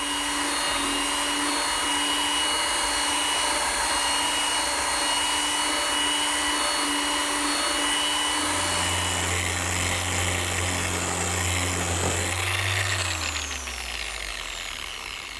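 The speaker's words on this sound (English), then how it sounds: "now it's just a matter of sanding everything smooth and flush" A power sander whines steadily on a wooden pine step stool, a loud continuous motor drone with shifting pitch as pressure changes, slowly winding down at the end.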